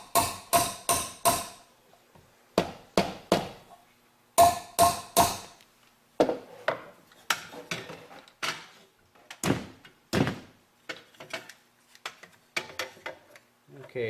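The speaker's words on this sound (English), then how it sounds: "I'm going to get a rubber hammer and tap that into place to where it's just right" A rubber hammer taps grain mill parts into place in short clusters of sharp knocks, several quick blows at a time with pauses between, close and clear in a quiet room.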